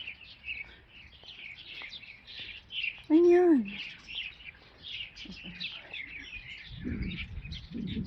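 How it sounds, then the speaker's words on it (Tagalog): Many small sparrow-like birds chirping outdoors in autumn, a dense layer of faint, rapid tweets throughout, with a brief louder call partway and a person speaking softly over it. "Daming ibon."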